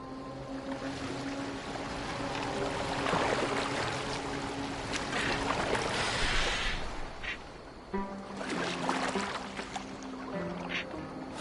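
A boat rowed across water in Assassin's Creed Valhalla, with rhythmic splashing and sloshing over a low, steady wash, fairly close and moderately loud, with game music tones underneath.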